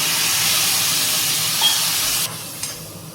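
Water poured into a hot pan of onions sends up a loud steady hiss of steam and sizzling close by, then the sound drops sharply toward the end as the steam dies away.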